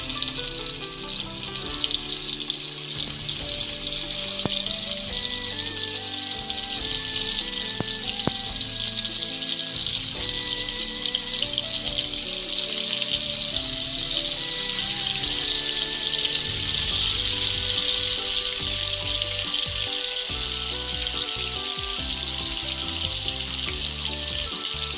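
Chicken pieces shallow frying in hot oil over a medium flame for shawarma give a steady, bright sizzling hiss that runs the whole time, with tuneful background music underneath.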